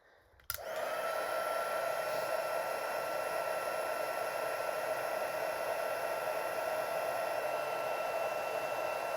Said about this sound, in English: now I'm going to go ahead and I'm going to heat emboss this